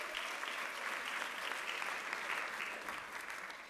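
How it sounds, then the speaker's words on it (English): Audience applause at a fall university convocation, an even wash of many hands clapping heard from a distance, steady and moderately quiet before tapering slightly at the end. "Let's give a round of applause."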